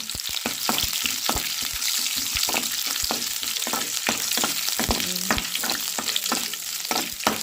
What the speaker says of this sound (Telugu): సిమ్లో పెట్టుకొని బాగా ఫ్రై చేసుకున్నాను